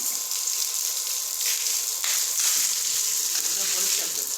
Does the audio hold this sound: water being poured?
yes